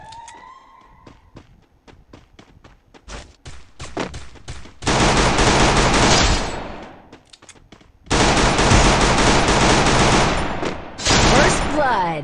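Automatic gunfire in the battle royale game Garena Free Fire, loud sustained bursts of rapid shots in two long volleys after a stretch of scattered single shots, with a short break between them and another burst at the end.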